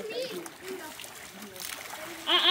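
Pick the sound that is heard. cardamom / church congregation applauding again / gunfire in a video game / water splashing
water splashing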